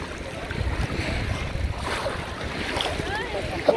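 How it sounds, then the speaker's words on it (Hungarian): Waves splashing against a swimmer in open water, a rough wash of surf and wind noise close to the microphone, with uneven bursts of water throughout and a sharper splash at the end. "Igen, megdobnak a hullámok."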